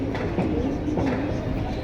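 Pigeons kept for sale coo close by in repeated low, rolling calls that overlap into a dense, continuous murmur.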